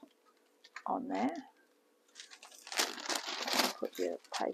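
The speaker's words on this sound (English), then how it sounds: "why are you putting baking paper down?" Baking paper laid on a kitchen counter before pounding chicken breast, giving short crinkles and crackles close by, a brief burst and then a longer rustle.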